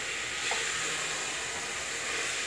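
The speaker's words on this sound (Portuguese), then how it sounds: "O segredo aqui é deixar a carne fritar." Ground beef sizzles and fries in a pan, a steady close hiss of fat spitting, continuous and fairly loud throughout with no talking.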